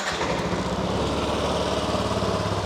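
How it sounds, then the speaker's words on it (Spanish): A Yamaha NMAX 125 scooter's small engine runs at a steady, fairly loud idle with a fast, even putter throughout, no talking. "Siguiente paso, arrancamos la moto."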